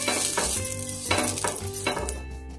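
Onion dipped in oil is rubbed across a hot iron griddle for North Karnataka style dhapati, giving a few repeated scraping, clinking strokes with faint sizzle in the background.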